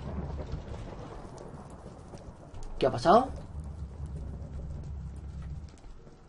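A thunder strike from the Thunder Sword in a video game cracks out as one sudden loud burst midway, rumbling briefly over a steady rain-like background while someone talks.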